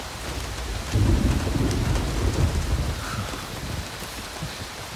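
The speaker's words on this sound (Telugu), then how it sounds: "మంచి వర్షం." Heavy rain pours steadily onto surfaces while deep thunder rumbles in, swelling loudly after the first second and rolling on beneath the hiss of the downpour, with no voices.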